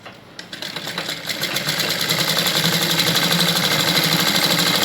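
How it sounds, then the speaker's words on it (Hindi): Electric sewing machine stitching fabric for a baby bloomer, starting up and settling into a fast, steady mechanical chatter of needle strokes, close and continuous with no talking. "जो ये हमारा खुला हिस्सा था मैं इसको पूरा सिल दूँगी।"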